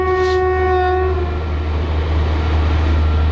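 A WDP4 diesel locomotive hauling the Bhuj–Dadar Sayajinagari Express sounds a long, loud horn blast as it passes close by, its engine rumble and wheel noise continuing steadily after the horn fades.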